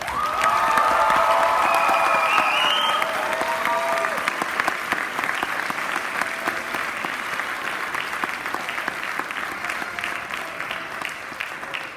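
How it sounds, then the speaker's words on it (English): An audience at a secondary school Year 13 graduation ceremony claps for the graduating class in a sustained round. It starts full and loud, then thins and fades gradually toward the end. "I think one last round of applause for the class."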